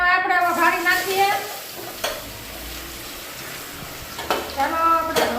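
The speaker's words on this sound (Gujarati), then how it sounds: "મિત્રો હવે આપણે વઘારી નાખીએ" Tempering hisses and sizzles as it is poured over dhokla, a steady frying crackle with brief louder bursts while a voice talks over it.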